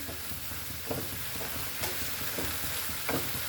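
Butter garlic prawns being tossed and stirred in a pan, a steady close sizzle broken by a few clear scraping strokes of the spoon at intervals, with no talking.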